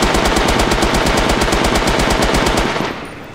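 Full-auto gunfire from the shooter game H-Hour World's Elite: a loud, rapid, evenly spaced burst of shots that runs nearly three seconds before cutting off as the magazine empties.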